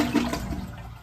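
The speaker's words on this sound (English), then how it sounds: "Yay! It flushed." A cabin's newly plumbed toilet flushes in a gurgling, swirling rush that is loudest at the start and then fades as the water drains away, with no talking.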